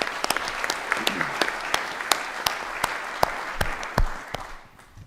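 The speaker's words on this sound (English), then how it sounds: "give our panelists another round of applause for those very excellent speeches" A room full of people at a conference panel on sustainable aviation fuel applauds steadily, dense clapping with a few sharper claps standing out, fading away at the end.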